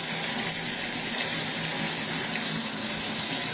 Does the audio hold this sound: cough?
no